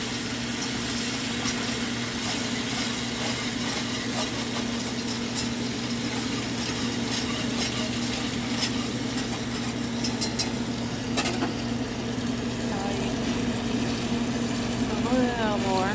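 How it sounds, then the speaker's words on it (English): Chicken broth poured into a hot skillet to deglaze it sizzles steadily, a continuous broadband hiss with light scraping and stirring over a low steady hum, with some talk nearby. "cup of chicken broth. It's gonna sizzle."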